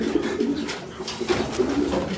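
Racing pigeons coo in a loft, low throaty rolling calls repeating and overlapping from several birds close by, with no talk over them.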